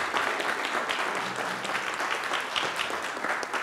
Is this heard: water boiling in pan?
no